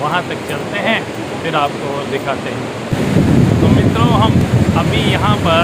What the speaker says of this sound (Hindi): तो उस नदी का शोर आ रहा है।